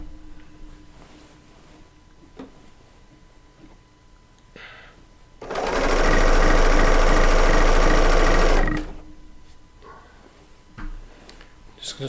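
A Bernina L890 serger stitches a quarter-inch quilt seam in one loud, steady run of about three seconds, framed by quieter handling and fabric rustle before and after.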